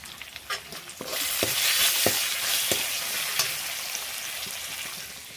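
Cumin seeds hitting hot oil break into a bright, steady sizzle that carries on throughout, with soft scrapes and taps of a utensil stirring the pan at irregular intervals.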